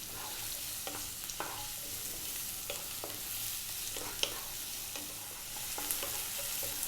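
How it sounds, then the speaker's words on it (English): Carrot pieces stir-frying over high heat for a beef brisket stir fry, with a steady sizzle and the repeated scrape and clatter of the pan being stirred, close up and without talk. "We're going to drop in that carrot. Stay on a high heat. Keep it moving."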